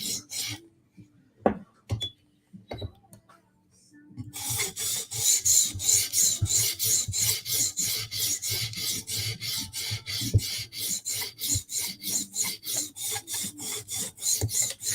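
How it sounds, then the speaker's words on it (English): A blade is sharpened with steady back-and-forth rasping strokes that repeat in an even rhythm as the burr and bevel are worked. A few scattered taps and pauses come first, then the close, continuous strokes take over, with no talking. "So now we're kind of trying to reduce the burr, push it over to the other side lightly."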